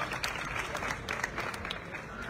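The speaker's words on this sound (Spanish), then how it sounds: "Un aplauso." An audience applauds at the presentation of the 70th-anniversary booklet of the Falla Plaça del Pilar: a steady, fairly soft wash of many hands clapping, with a faint crowd murmur underneath.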